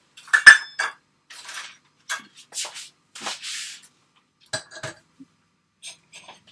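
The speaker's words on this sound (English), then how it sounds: "So I'm just going to stir that so that everything's mixed." A spoon stirs stem ginger chocolate chip cookie ingredients in a bowl, producing close, intermittent clinks and scrapes of metal against the bowl in short separated bursts with quiet gaps between.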